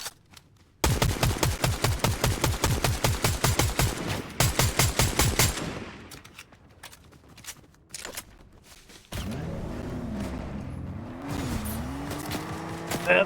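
Rapid automatic gunfire in Fortnite: a long, loud burst of evenly spaced shots, then a few scattered shots fading away. Next comes a steady engine-like drone with shifting pitch, and no talk is heard.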